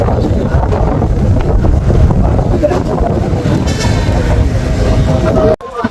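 A passenger launch, the MV Antara, on the rough Tentulia river near Bheduria, with heavy wind buffeting the microphone over a constant low rumble of engine and water throughout.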